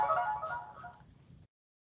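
A phone ringtone plays a short, bright melodic chime that fades over about a second and a half before cutting off into silence, heard on its own.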